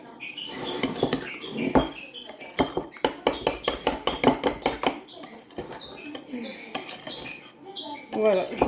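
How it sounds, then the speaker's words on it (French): Spoon clinking and scraping against a bowl while fromage blanc is stirred together with vanilla sugar, a quick steady run of close taps and scrapes with brief pauses. "Je mélange mon fromage blanc avec les deux sachets"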